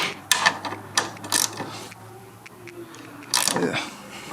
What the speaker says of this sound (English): you got a ratchet wrench and a ratchet. I'll break them loose real quick.